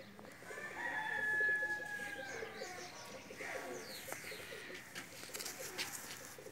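Teddy pigeons, a breeding pair with a Teddy hen, coo close by in soft rolling phrases, with other bird calls and faint chirps scattered around a busy pigeon loft.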